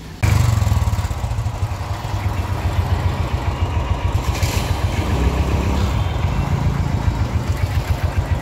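A Royal Enfield Bullet motorcycle idles close by with an indoor silencer fitted, its engine running quietly and steadily in an even, soft thumping rhythm throughout, no voices present.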